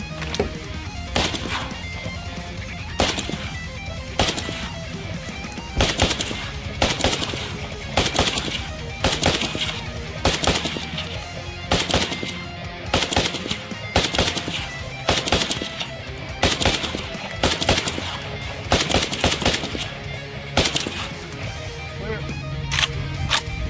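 An Imperial Arms AK47 variant rifle fed from a Bulgarian Circle 10 polymer magazine fires outdoors, loud sharp reports coming singly and in quick pairs at irregular intervals throughout.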